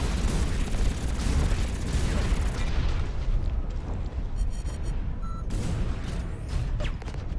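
A deep, roaring explosion in the video game EVE Online fills the opening seconds with heavy rumble, then tails off into a lighter mechanical hum with a few faint blips and pops.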